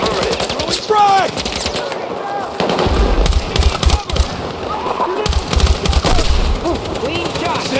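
Rapid bursts of gunfire and frag grenade blasts in the shooter game Battlefield 6, loud and close with heavy low booms, mixed with shouted soldier voices calling orders.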